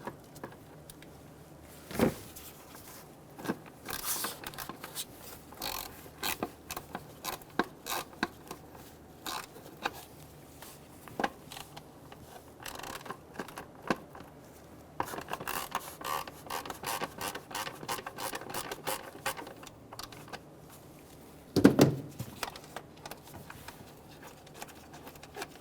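Ratcheting and metallic clicks of a 10mm socket wrench loosening the two MAP sensor bolts on a 2.7L four-cylinder Toyota Tacoma, close and fairly quiet, coming in scattered bursts with a louder clatter near the end.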